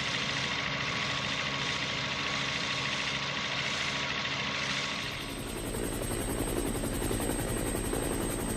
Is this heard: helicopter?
yes